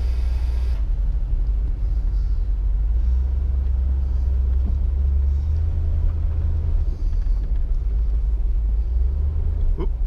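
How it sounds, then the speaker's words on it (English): A 1969 Lincoln car rolls around inside a garage, its engine giving a loud, steady low rumble that carries on unbroken throughout. "I'm just gonna drive it around a little bit in the garage here."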